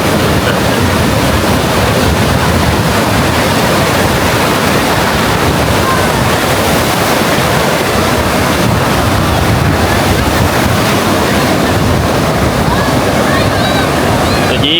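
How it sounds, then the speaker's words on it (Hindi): Sea waves rolling onto Hawks Bay beach in Karachi at sunset, a steady broadband wash of surf with wind buffeting the microphone throughout, loud and continuous with no clear gaps. "ये समंदर है।"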